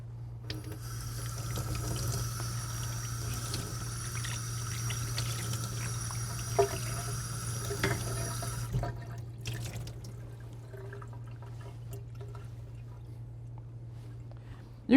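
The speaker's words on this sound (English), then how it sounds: "We want to rinse them really nice with some cold water too." Cold tap water runs in a steady stream into a kitchen sink as fresh scallops are rinsed, then the flow cuts off and a few faint drips and small knocks follow in a quieter stretch.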